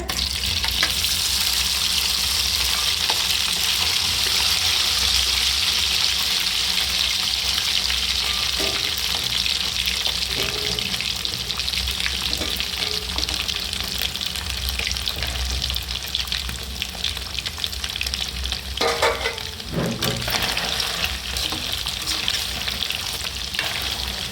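Chicken pieces fry in hot oil on a stove for Telugu broiler chicken pachadi, a loud, steady sizzle all the way through with occasional stirring and clinks of a spoon.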